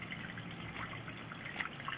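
Water runs through a residential drain pipe after the supply is turned back on, a steady, faint rushing flow with a few soft splashy bumps near the end and no one speaking.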